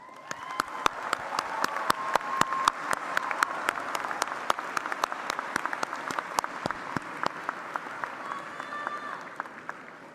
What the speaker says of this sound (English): I congratulate you and offer a special round of applause.